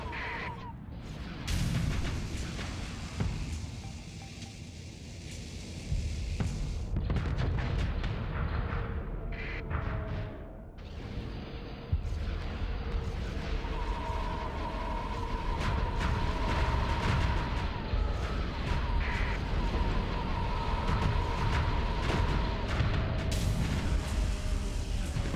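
Space battle in the game Starsector with dense, continuous missile launches and point defense fire, a steady rumbling barrage of booms and rapid shots, loud throughout with a brief dip around the middle.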